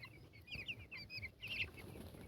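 Ten-day-old broiler chickens give short, high repeated chirps and clucks in a quiet shed, several calls overlapping in quick bursts at close range, with no talking.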